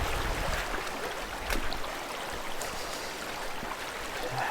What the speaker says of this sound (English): enjoy the cool water from the brook